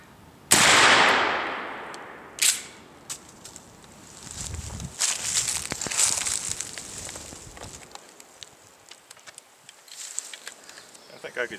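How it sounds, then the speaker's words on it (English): A Mossberg shotgun loaded with Fiocchi No. 4 buckshot fires one loud, sharp outdoor blast that echoes and decays, followed by a fainter second report, then footsteps and handling noises. "I could shoot those Mossbergs all day."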